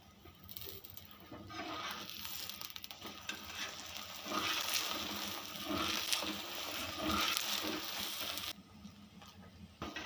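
Aloo paratha frying in ghee on a griddle, a moderate, uneven crackling sizzle close by with light pattering spatters, no talking.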